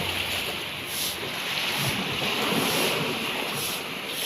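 Sea surf at Valencia, Bohol rolls in a steady broad wash, with gusty wind buffeting the microphone and a slight swell in loudness midway, no voices.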